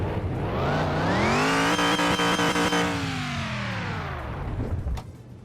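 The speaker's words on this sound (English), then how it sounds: "Ain't nothing like the whine of a supercharger" Supercharged car engine held at high revs in a custom car shop, a sustained whine above the roar, then easing off and dropping away with a brief final blip, loud and near.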